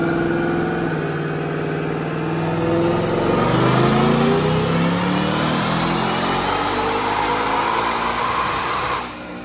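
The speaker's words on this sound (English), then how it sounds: "Check out this dyno pull." A 2024 Mustang GT automatic with a Whipple supercharger and resonator delete revs hard on a chassis dyno at Brenspeed, a loud rising engine and supercharger whine sweeping up before cutting off near the end.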